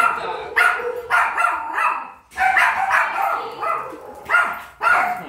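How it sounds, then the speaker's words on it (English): A dog barks repeatedly while playing with a big dog, in loud, close bursts with short gaps between them. A faint voice or whimper can be heard between the barks. "She was playing with a big dog."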